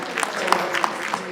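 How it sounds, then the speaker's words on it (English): Audience applause and cheering at a Macallan event as fashion designer Mai Atafo walks on stage, a continuous crowd clapping with a few sharper claps standing out, a voice talking over it. "A round of applause for him, ladies and gentlemen, as he makes his way on stage"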